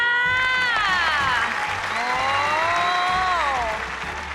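A Thai TV game show audience cheers and claps enthusiastically for the blue team, with excited voices shouting over steady applause throughout.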